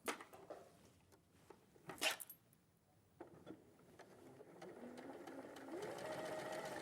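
A sewing machine stitching fabric, starting with scattered clicks and handling knocks, then settling into a steady, gradually louder whirring run over the last few seconds, fairly quiet overall.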